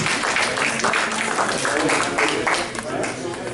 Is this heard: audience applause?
yes